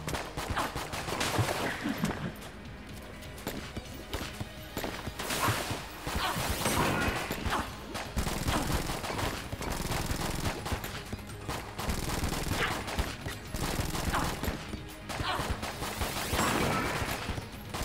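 Near-continuous gunfire in the dungeon shooter Enter the Gungeon, rapid overlapping shots and impacts layered with game music and effects.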